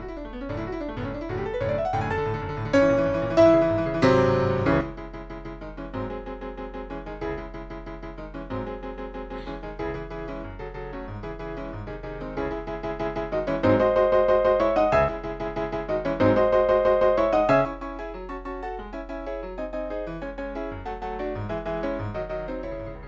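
Solo piano plays an arrangement, a flowing melodic passage with sustained chords and a few louder swells, clear and close with no voices.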